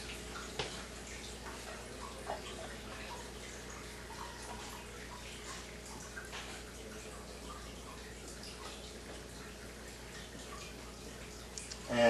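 Water runs steadily and quietly from a Jupiter Melody water ionizer, a soft even flow with a few faint clicks and drips and a louder sound at the very end.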